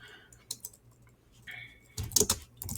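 Bursts of computer keyboard typing while an answer is entered into a knowledge base setup form, quick clustered keystrokes with quieter gaps, close and fairly faint, no talking.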